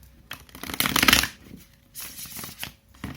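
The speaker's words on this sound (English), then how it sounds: "I saw it 2 times when I was shuffling." Tarot cards are shuffled close by in quick riffling bursts, a loud flurry followed by softer shuffling.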